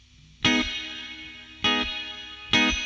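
Guitar through a Joyo Atmosphere reverb pedal on a very bright plate setting, three separate struck chords each ringing out with a shimmery, sparkling high-end tail, fairly quiet and alone.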